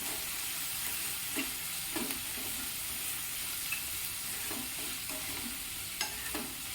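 Onion with turmeric and asafoetida sizzles in hot oil in a pan, a steady soft frying hiss broken by several scraping stirs of a spoon, close and alone without talk.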